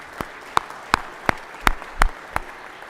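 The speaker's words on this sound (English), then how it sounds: "y'all give them a big round of applause." Sparse applause in a state senate chamber, a few distinct sharp claps spaced roughly every half second, close and fairly loud over a quiet room.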